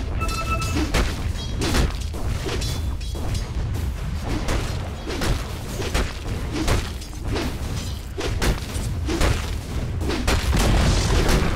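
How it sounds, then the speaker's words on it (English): Booming impacts and crumbling crashes from a tower being destroyed in Dota 2, repeated heavy thuds in a continuous loud stream of battle noise. "Dire's bottom tower has fallen."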